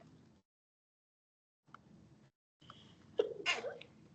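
One close, sharp human sneeze bursts out near the end, after stretches of soft breathing noise and silence.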